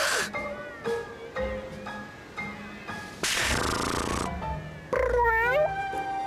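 A cat named Tsubaki in the video game Bravely Second purrs in a loud, rough burst of about a second, set between several clear, rising and falling meows.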